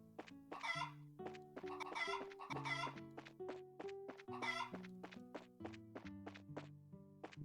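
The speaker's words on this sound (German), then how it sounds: "Hühner." Chickens cluck repeatedly in the video game Trails in the Sky, a busy run of short, close clucks and squawks over a looping tonal game melody, with no one talking.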